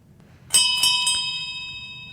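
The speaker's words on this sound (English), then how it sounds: "I hear the landlord ringing the bell for last call" A bright pub bell strikes three quick times for last call, and its clear metallic ring lingers and slowly fades.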